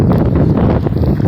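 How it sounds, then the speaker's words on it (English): Strong wind buffets a microphone outdoors, a loud continuous low rumble and roar that fills the brief moment with no other sound. "It is very windy today."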